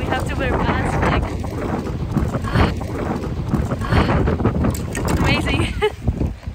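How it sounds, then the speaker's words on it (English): Strong outdoor wind hitting the microphone, a loud continuous low rumble and buffeting that persists the whole time, with someone talking over it. "it's so windy and we have to wear masks"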